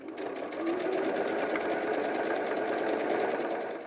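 A sewing machine back-stitching a small strap for an 18-inch doll's backpack runs in a continuous, even whirring hum at close range with no pauses.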